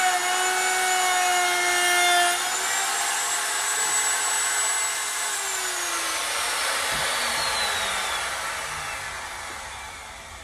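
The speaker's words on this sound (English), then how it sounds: "So I'm doing a little router number on some of the trim." A handheld router cuts a profile into wooden trim, improvised without a router table. Its high whine holds steady and close throughout, with the pitch dipping as the bit bites into the wood and scrapes along it.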